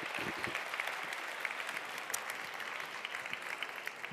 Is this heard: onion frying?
no